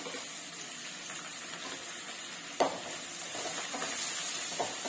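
Fenugreek leaves stirred in hot oil in a pan while cooking a village-style fenugreek chicken, a steady broad sizzle with a spoon scrape and knock partway through, close and fairly loud.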